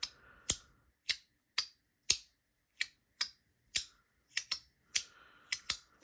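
Compoform Gorgon haptic slider coins click out one after another, about a dozen crisp, sharp clicks in an uneven rhythm, close and clear against silence.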